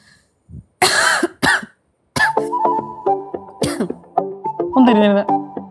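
Two sharp, forceful coughs burst out close by during a doctor's check-up for fever, followed by conversational speech.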